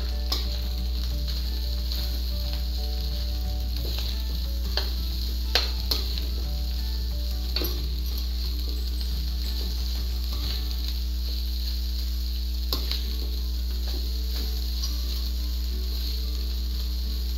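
Chicken yang chow fried rice is stirred in a pan, a continuous sizzle with faint scraping and clinking of the spatula under a steady low hum.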